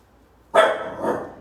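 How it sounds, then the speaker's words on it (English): A dog barks indoors, one sharp loud bark followed by a softer trailing yelp, close by against a quiet room. "I don't even know what she's barking at."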